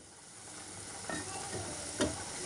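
Ground chickpeas frying in a masala in a home kitchen, a faint steady sizzle with a few soft stirring scrapes, no talking.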